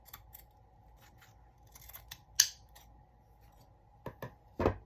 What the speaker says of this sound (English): So I'll just give the bottom a trim